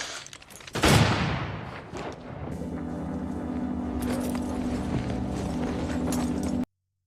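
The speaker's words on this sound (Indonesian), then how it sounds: "Tak lama kemudian terdengar suara letusan pistol." A single sharp pistol shot cracks out loudly near the start of a film scene, followed by a steady low mechanical drone and scattered clatter, with no talking.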